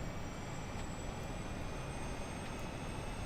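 An aircraft auxiliary power unit runs nearby: steady, loud broadband roar with a thin high whine on top, continuous and unchanging, like a small jet turbine.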